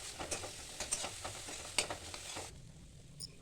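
Ginger, garlic and onion paste frying and being stirred in a pan, a steady close sizzle with soft scraping strokes that cuts off near the end, leaving a quiet tail.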